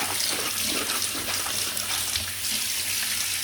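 Green beans being rinsed under a running tap, a steady close splash and gush of water with small fluctuations as the beans are moved around.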